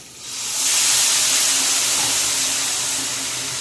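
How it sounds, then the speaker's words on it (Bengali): Water poured onto sautéed small potatoes in a hot pan for aloo dum, setting off a loud, close, continuous hissing sizzle that rises quickly and holds steady, with no talking. "আলু কষিয়ে নিয়েছি এখন জল দিয়ে দেবো"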